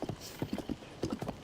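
Horse hooves clip-clop in a video game, a quick, even run of about eight close, crisp clops over a brief moment, with no speech or other sounds competing.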